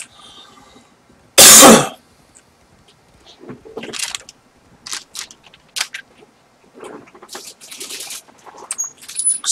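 A person coughs once loudly and sharply up close, followed by a string of quieter coughs and throat-clearing sounds scattered irregularly over the rest of the stretch, during a game commentary.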